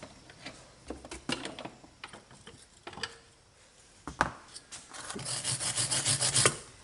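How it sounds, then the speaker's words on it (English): Brushes scrub grit off seized brake parts on a Kawasaki pit bike. The close, dry scraping comes in irregular strokes, then turns into a quicker, steadier rhythm of brushing toward the end. "I'm going to get some brushes and I'm going to clean this up."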